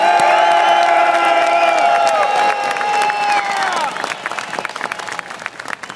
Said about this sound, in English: let's give a round applause, cheer, stomp your feet for the man that helped put this whole thing together